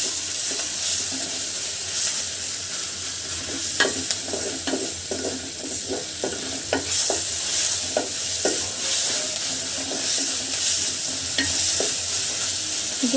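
Garlic paste and onions sizzle steadily in a hot pan for a fish curry, with a continuous broadband fry hiss and repeated scraping clicks of a spatula stirring through the mix, close and fairly loud, no talking.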